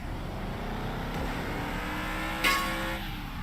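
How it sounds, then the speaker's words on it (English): Engine drone of the Spinebuster car in the racing video game Project Acceleracer, a steady buzzing loop held at an even level throughout with a brief sharp accent midway, no voices. "I'm still hearing that annoying, like, engine sound from Spinebuster"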